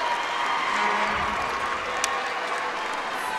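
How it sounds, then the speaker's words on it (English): Spectators at a 2014 WFTDA roller derby championship bout between Rose City Rollers and Gotham Girls clap and cheer in a steady, arena-filling wash of applause, with a commentator speaking briefly. "A round of applause for both of these teams."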